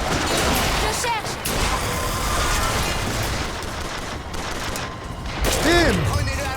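Sniper rifle fire in the video game Bioshock Infinite sounds as a sharp crack amid dense game noise and music, with someone talking over much of it.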